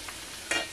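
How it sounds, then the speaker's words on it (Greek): Food frying slowly in a pan over moderate heat gives a quiet background hiss, then a brief, louder sizzling burst near the end, as if the pieces were stirred or turned. "η φωτιά μου δεν είναι πάρα πολύ δυνατή, είναι τόσο ώστε να τηγανιστούν σιγά σιγά"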